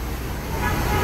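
Rosalia Indah bus passing close by on a busy road, a loud engine and tyre roar that swells across the short moment, with traffic noise around and a horn toot.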